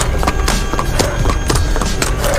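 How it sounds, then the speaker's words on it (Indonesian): Running footsteps that have turned into horse hooves: a quick, regular run of sharp clip-clop strikes, close and loud over a dense noisy backdrop. "Hingga langkah kaki pun menjadi suara sepatu kuda."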